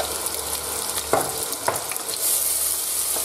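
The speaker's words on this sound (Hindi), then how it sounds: "अनियंस जब अच्छे से फ्राई हो जाए" Chopped onions frying in hot oil in a kadhai, a steady close broadband sizzle with a few sharp stirring scrapes and a louder hiss swelling near the end.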